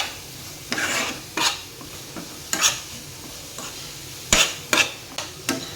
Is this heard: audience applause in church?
no